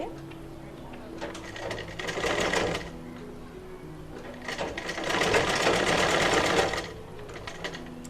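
A sewing machine stitches along the neckline of a maxi dress in two bursts of rapid mechanical whirring, a short run followed by a longer one, while a person talks over it.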